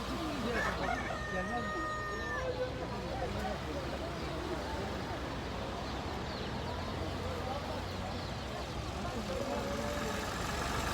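Chickens and a rooster at a poultry market in Taşköprü, Kastamonu, crow and cluck over a dense crowd of birds, continuous and close, with people talking in the background.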